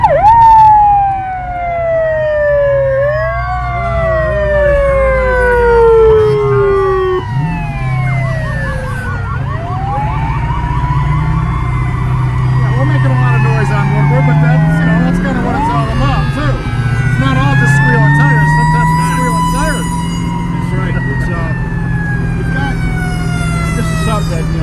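Wailing and yelping sirens from fire trucks and other emergency vehicles rolling in a parade, loud and overlapping, with rising and falling tones stacked over a low engine rumble, under talk.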